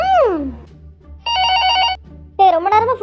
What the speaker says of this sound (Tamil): ரொம்ப நேரமா ஃபோன் அடிச்சிட்டே இருக்கு, யாராச்சும் போய் எடுங்களாப்பா.